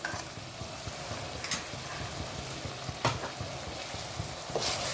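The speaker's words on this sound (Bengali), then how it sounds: "দিয়ে এটাকে আবার ভালোভাবে নাড়তে হবে।" Pointed gourd dolma filling mixed with ground cashew paste is stirred in a hot pan, giving a continuous close sizzle with scraping strokes of a spatula and a few sharper clacks against the pan.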